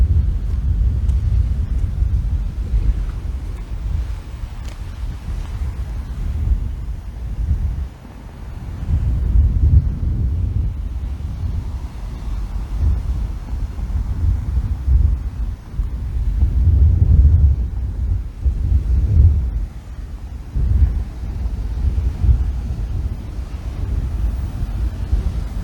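Strong, steady wind buffeting the microphone in low gusts on a sea cliff at The Spout and Ladder Bay at sunrise, with faint surf rumbling underneath; the gusts swell and ease over time, and no one speaks.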